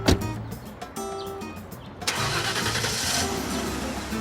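A car engine cranks and catches, settling into a loud, steady running hum after a couple of seconds of clicking and starter noise, close by with no talk.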